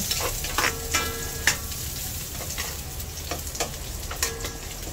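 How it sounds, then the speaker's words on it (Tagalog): Tomatoes frying in a hot pan give a continuous close sizzle, broken by repeated stirring scrapes and clicks of a utensil against the pan. "Lutuin maigi ang kamatis."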